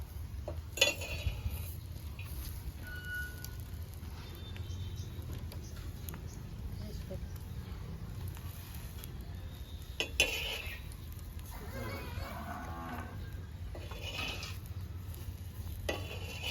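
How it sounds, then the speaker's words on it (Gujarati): Butter dabeli roasting in a pan until crisp gives soft, faint sizzling under quiet scraping and clinks of a utensil, with a few louder scrapes and taps spread across the stretch. "તો આવી રીતે છે ને શેકી લઈએ જે ક્રિસ્પી થાય ને ત્યાં સુધી શેકીએ"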